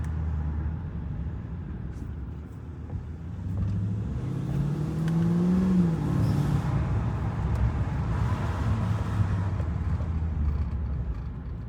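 Mercedes E55 engine accelerating on the road, a low rumble from inside the cabin rising in pitch as power is applied around the middle, then settling into a steady hum with road noise.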